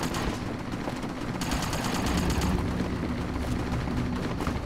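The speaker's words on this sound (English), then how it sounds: "someone is doing grenades and stuff there" Sustained gunfire and explosive thuds in Fallout New Vegas, a continuous dense rattle of distant shots and booms at steady loudness, with no one speaking.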